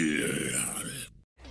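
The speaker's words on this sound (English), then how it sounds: "Wario ranks this high despite snoring because, well, what else were we expecting from him?" Wario's snoring voice clip from Smash Ultimate gives a single long, raspy, throaty snore, loud and close, that cuts off abruptly before a short breath resumes.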